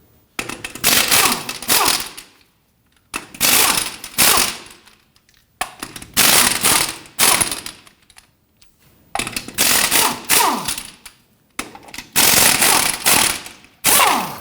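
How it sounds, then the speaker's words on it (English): A ratchet loosens the wheel lug nuts on a 2007-2017 Jeep Patriot, in five loud bursts of rapid clicking separated by brief pauses, close up and with no talking. "Let's go ahead and loosen and remove our lug nuts."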